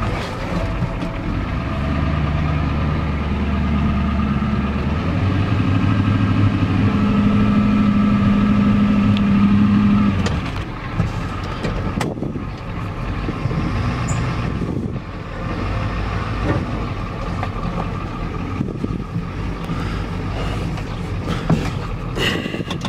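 A 1993 Ford F-250 XLT with a 7.3L IDI diesel engine runs close by with a loud, steady low clatter and drone that rises in pitch briefly, then settles into a rougher, lower idle with scattered knocks.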